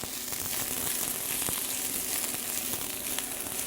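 Food sizzles as it is added to a frying pan during a restaurant terrace cooking demonstration, a steady hissing crackle with scattered sharp pops, moderately quiet and continuous throughout, with no talking.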